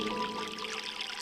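River water flows in a continuous, even rush with a bright splashing texture, heard close and alone without any talk for its brief length.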